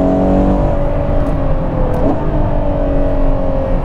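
A Ferrari Purosangue fitted with a Novitec exhaust runs under steady engine drone, its tone sliding as a gear shift comes through around the middle, loud and close with no talk.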